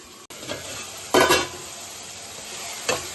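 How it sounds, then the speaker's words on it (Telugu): Salted onions stirred in a pan for an egg and drumstick curry, a soft sizzle broken by a few scraping strokes of a spoon against the pan, close and without talk. "సాల్ట్ వేసుకుంటే ఉల్లిపాయలు తొందరగా మగ్గుతాయి. ఇలా కలుపుకొని మూత పెట్టుకుని 2 నిమిషాలు ఉల్లిపాయలు మగ్గాలి."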